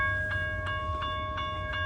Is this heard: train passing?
yes